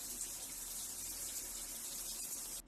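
A colour-changing LED shower head runs water in a steady, close, unbroken hiss of spray that cuts off abruptly at the very end, with no voices.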